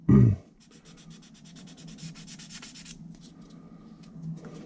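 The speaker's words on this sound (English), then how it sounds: "So I'm just sanding this down." Steady rhythmic rasping of sandpaper rubbing back and forth on a small hard part of a 1/35 Hasegawa model kit, close and fairly quiet, after a brief bump at the start.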